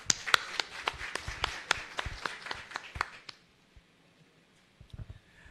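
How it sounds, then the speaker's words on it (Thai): A small audience claps at the installation ceremony for the 20th-term Chanthaburi Chamber of Commerce committee, with crisp, close handclaps for about three seconds that fade into quiet and are followed by a few scattered taps. "ขอเสียงปรบมือด้วยค่ะ"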